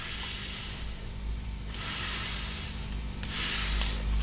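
A voice makes long hissing S sounds imitating a snake for a phonics letter lesson, three drawn-out hisses with short gaps, fairly close and clear over a quiet low hum.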